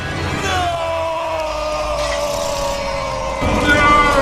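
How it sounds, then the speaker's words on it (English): Doctor Octopus's mechanical arms in Spider-Man 2 let out a loud, drawn-out mechanical scream that wavers and bends in pitch, swelling louder near the end over a dense, rumbling movie soundtrack. "the arms even scream with him when he finds out everything's gone wrong"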